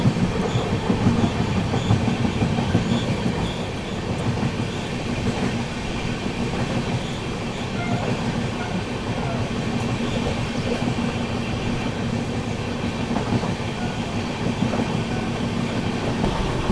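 The 12615 Grand Trunk Express, running between Chennai and New Delhi, rolls steadily along the rails with a continuous rumble and clickety-clack from the wheels, heard from inside the moving train without a break.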